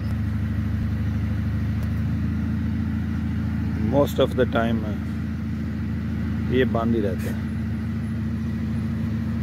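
Cars idling near Jhelum's old railway crossing by the bus stand, a low steady engine rumble filling the background while someone speaks briefly over it.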